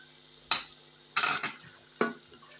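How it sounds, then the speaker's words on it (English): Finely chopped garlic frying in a pressure cooker, heard as a low sizzle broken by three sharp stirring scrapes, close and fairly quiet with no voices. "Then next you go in with your garlic, finely chopped, don't grind"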